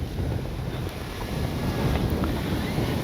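Strong wind buffets the microphone with a constant low rumble and roar, steady throughout with no voices.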